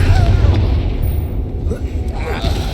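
A Confringo blasting curse goes off in Hogwarts Legacy, a deep rumbling boom that rolls and rumbles steadily through the whole stretch, heavy and close with low-end weight.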